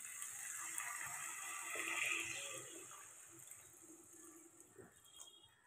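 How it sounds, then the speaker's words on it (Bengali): Water pours into a cooking pot holding brinjal, a brief splashing gush that swells and then fades into quieter trickling, faint overall with no voices. "এর মধ্যে এখন জলটা দিয়ে দেবো আমি"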